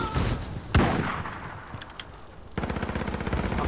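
A machine gun in Call of Duty Modern Warfare fires a sharp opening shot, then falls quiet before a rapid, evenly spaced burst of close, punchy rounds.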